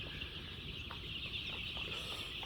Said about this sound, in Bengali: 1600 মুরগি এখানে